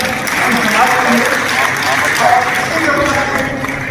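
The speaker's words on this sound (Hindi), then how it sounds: "एक बार जोरदार ताली" An audience at the inauguration of a temple hall applauds loudly and continuously, a thick, steady clapping with crowd murmur under it.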